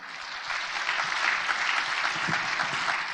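Audience at a Korean history lecture on the Korean War bursts into sustained applause, a dense, steady wash of many hands clapping at close range for the whole stretch, with no voices on top.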